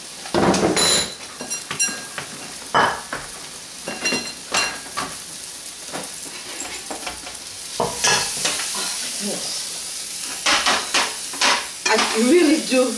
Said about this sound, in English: And then I'll stir fry.